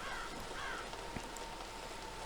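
Rain in a video game, a soft, steady hiss of falling drops with faint scattered ticks, quiet and continuous, with no voices present.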